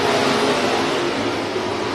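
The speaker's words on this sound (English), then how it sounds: "we are stock car racing once again" Stock cars roar past at a dirt oval speedway race in a loud, continuous engine drone, the rumble filling the whole moment without a break.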